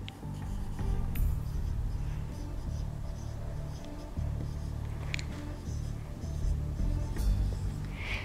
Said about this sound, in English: let me write down the room number here real quick